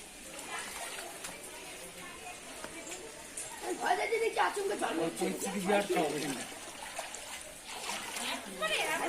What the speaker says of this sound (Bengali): জল ঢুকছে এখন এটাও দেখো